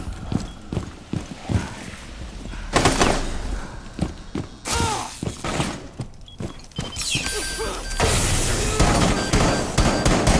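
A breaching charge goes off in Rainbow Six Siege as a loud broadband blast, preceded by rapid footsteps and followed by further bursts and gunfire-like cracks in dense, close game audio.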